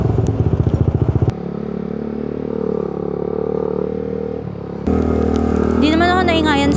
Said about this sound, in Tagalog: Hindi naman ako naingayan sa pipe niya.